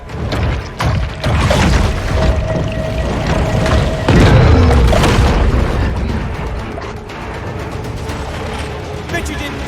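A torpedo explodes in the underwater shark game Maneater, a loud booming burst with a deep rumbling tail amid busy game effects and muffled splashing.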